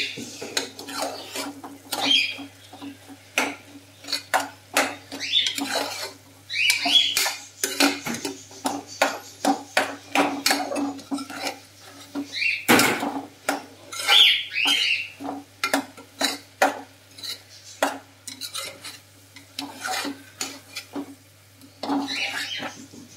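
A spoon scrapes and clinks repeatedly around a pan of carrot and chana dal curry, an irregular run of close metallic rasps and taps over a faint low hum.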